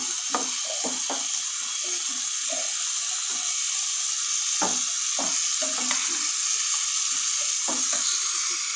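Chicken curry masala fries in a pan for a Mangalore-style coconut milk chicken curry, a continuous loud sizzle broken by repeated scraping stirs.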